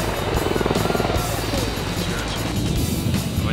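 An MV-22 tiltrotor flying an air show demonstration at Camarillo, a steady loud rotor and engine roar filling the whole stretch, with a crowd murmuring underneath.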